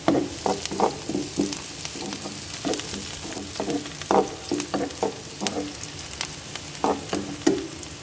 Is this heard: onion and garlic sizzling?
yes